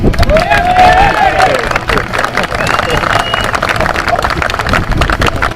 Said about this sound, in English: there's going to be a big cheer for this young man, of course, one of our local boys, Ben Eccles